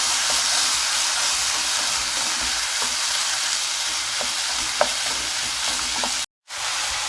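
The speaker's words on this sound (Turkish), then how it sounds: "Daha sonra kereviz ve elmayı koyuyoruz. Şimdi karıştırıyoruz." Celery and apple fry in a pot while being stirred, making a steady close sizzle and hiss with faint scraping, broken by a brief silent gap near the end.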